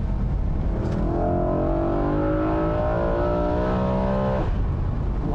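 A 2008 BMW M3 E93 with a carbon intake and stock exhaust accelerates on a mountain road. Its induction noise rises steadily in pitch for several seconds, loud and close, then eases off near the end, with no talking.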